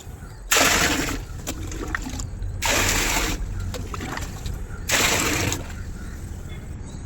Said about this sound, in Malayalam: ഇരുപത് ലിറ്റർ വെള്ളമാണ് ഞാൻ ഇതിലേക്ക് ഒഴിച്ചു കൊടുക്കുന്നത്